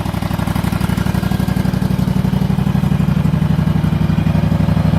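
Engine running loud and close with a steady, rapid pulsing rumble and mechanical clatter throughout, like an idling vehicle stuck in mud with flat tires.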